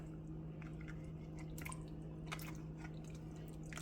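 An undrained can of Rotel tomatoes is spooned and spread over a chicken dish, giving soft wet squishes and drips close by over a steady low hum.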